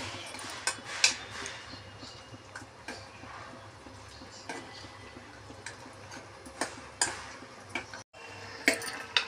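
A metal ladle stirs eggplant in a pot of Telugu-style raw tamarind stew, giving scattered light clinks and scrapes at an irregular pace over a soft background hiss, with no voices.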